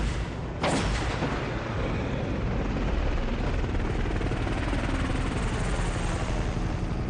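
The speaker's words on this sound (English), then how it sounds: "a medevac helicopter coming in to pull people out" Medevac helicopter flying in, a steady loud rotor roar with continuous wash that starts with a sudden onset and holds throughout.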